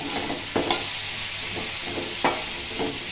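Vegetables fry in a pan with a constant close sizzle, while a spatula stirs them in several light scraping knocks spread evenly through.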